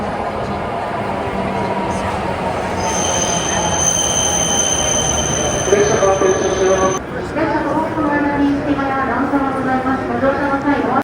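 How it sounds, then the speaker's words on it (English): A Japanese Shinkansen bullet train rumbles and hisses steadily, with a sustained high squeal partway through and a loud continuous rolling roar. "to catch our first Shinkansen bullet train"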